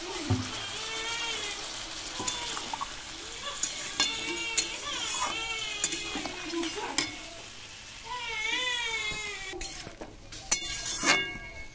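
Mixed vegetables with potato and spices being stirred and fried in a pan for pachmishali shak, a steady sizzle with repeated scraping and clinking of a spatula against the pan, close and continuous with no talk.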